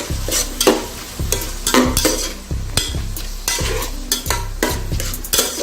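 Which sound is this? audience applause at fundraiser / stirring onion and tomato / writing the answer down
stirring onion and tomato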